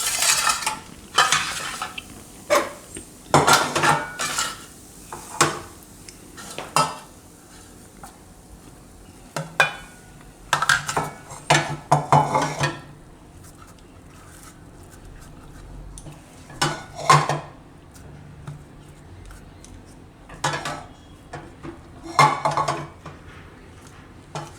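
A milk cake mixture made from leftover rotis, milk and sugar is scraped and scooped from a pan into a dish, with repeated spoon clinks and scraping bursts at an uneven rhythm, close and fairly clear, with no voices.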